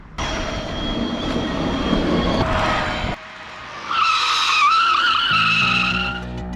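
An electric bicycle skids under hard braking from about 65–70 km/h: a loud, close rush of rubber scraping for roughly three seconds, then a sharp, wavering high squeal and a low rumble as it comes to a stop.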